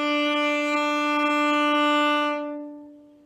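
A sustained bowed string note played with heavy arm weight, full and rich in overtones, holding steady for about two seconds before fading away, heard alone.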